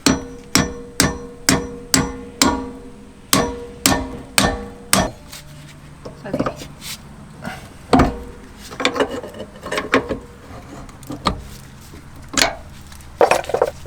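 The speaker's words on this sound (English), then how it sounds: "It might take a little bit of tapping because these bolts have splines on them that bite into the axle or the eye bolt." A hammer taps splined bolts out of an RV axle equalizer during a backyard repair. Sharp metallic strikes come in a quick, even run at first, then turn sparser and irregular, close and fairly loud.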